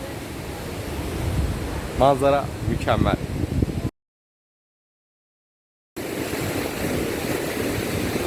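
A broad steady roar of falling water at Mençuna Waterfall in Turkey's eastern Black Sea region fills the scene, with a brief spoken remark over it, then cuts to silence before the roar returns.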